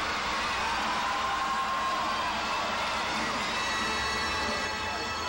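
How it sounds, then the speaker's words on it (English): A large arena crowd cheers steadily at the 1991 World Gymnastics Championships women's team event, a broad distant roar of applause and shouts that holds even throughout. "Listen to the crowd."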